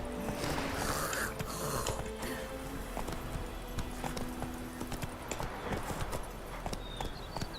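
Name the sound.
horse hooves galloping in The Witcher video game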